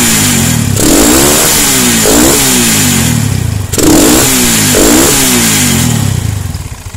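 A Honda Tiger motorcycle engine is revved hard twice in close succession, each burst a loud rising and falling roar over a steady idle, heard up close with no talking.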